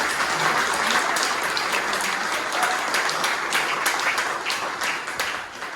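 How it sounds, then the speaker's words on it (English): Conference keynote audience applauding, dense sustained clapping from a large crowd that holds steady and fades slightly at the end. "let's give a big round of applause"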